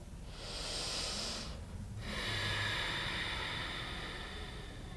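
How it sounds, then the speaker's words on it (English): Two slow, deep nasal breaths during a yoga flow, close and airy, the first a long inhale and the second a fuller exhale after a brief pause, with no talking. "Take one more breath like this."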